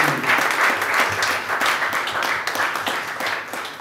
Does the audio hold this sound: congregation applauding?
yes